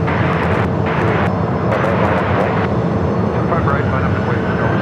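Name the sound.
jet airliner taking off from runway 25 right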